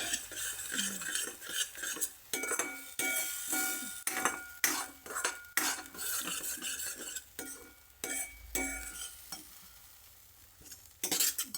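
A spoon scrapes and clinks around a pan as masala gravy for butter palak paneer is stirred, repeated metallic strokes over a soft sizzle, close and without voices.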